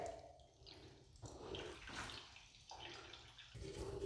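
Water trickling weakly from a basin tap after the mains supply is turned back on, a faint, uneven splash and run of water in a quiet room, with no talk.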